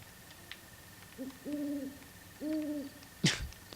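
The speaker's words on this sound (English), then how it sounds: "That owl sounds phony. It sounds like somebody imitating an owl." Two soft, low owl hoots in The Legend of Zelda: Breath of the Wild sound alone over a quiet background, followed by a short sharp squawk.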